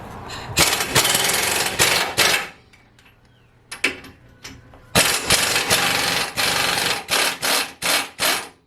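Impact wrench working on the front wheel hub of a 2013 Ford F150 truck, loud close hammering bursts in several long rattling runs separated by brief pauses, ending in short rapid blasts.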